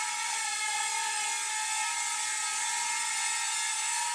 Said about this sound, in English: Pivoting the drone, I should say.